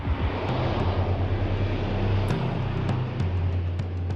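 An official airplane arriving in Taiwan gives a steady, loud engine roar with a low drone that holds throughout, without speech.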